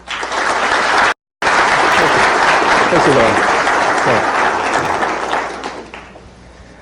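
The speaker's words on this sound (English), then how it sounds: "Please give a warm round of applause for our next speaker," Sustained, dense audience applause fills a conference hall as a keynote speaker on big data is welcomed at a diplomacy event. A brief spoken thanks cuts in near the start, then the clapping fades toward the end.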